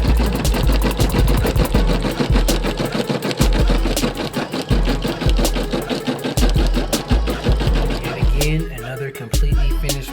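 Brother SE625 embroidery machine stitching a logo patch, a loud, close, rapid mechanical clatter of needle strokes in a steady driving rhythm that runs continuously, with a brief change in texture near the end.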